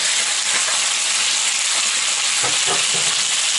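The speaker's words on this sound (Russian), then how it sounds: "И отправляю на сковородку наши кусочки." Pieces of beef steak sizzle loudly in a hot frying pan, a steady close hiss with a few brief clatters.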